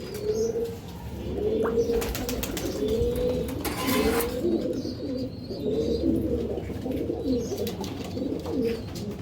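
Many pigeons in a room coo continuously nearby, overlapping low calls with occasional chirps and a burst of wing or rustling noise partway through.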